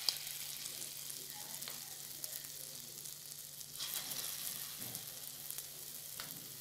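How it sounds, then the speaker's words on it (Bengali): Lentil fritters fry in a wok of hot oil with a faint, steady sizzle and a few light crackles and spoon clinks, heard alone without talk. "তেল গরম হয়ে গেছে, এবার আমি ডালের বড়াগুলো তৈরি করে দিচ্ছি।"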